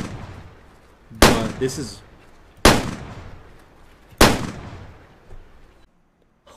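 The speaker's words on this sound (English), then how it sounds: "I'm sorry that I'm shooting it so much" Three sharp, loud .22 rifle shots ring out at a honey badger in the hunting game Way of the Hunter, spaced evenly about a second and a half apart, each with a short echoing tail, while someone speaks briefly.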